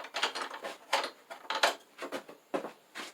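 A fitting on a table saw zero clearance insert is loosened by hand, a series of close, quiet metallic clicks and ratcheting scrapes in irregular bursts, with no talking.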